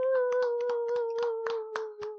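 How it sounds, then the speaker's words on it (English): A few hands clapping at an uneven, loose pace over a steady tonal hum, light and sparse rather than a full crowd, for a women's reality competition show. "Let's clap it up for them one more time."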